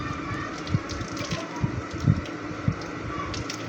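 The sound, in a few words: water poured into arbi pakora batter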